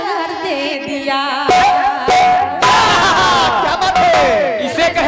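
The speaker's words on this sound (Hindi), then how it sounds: "हृदय से धन्यवाद है आपकी इन तालियों के लिए" Applause and cheering from the audience at a jawabi kirtan performance in Thathiya, Kannauj, swelling into loud, dense bursts over sustained sung and instrumental tones, with shouts mixed in.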